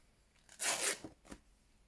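Scissors cut through fabric in one brisk, crunchy slice followed by a shorter snip, close and fairly quiet with no voices.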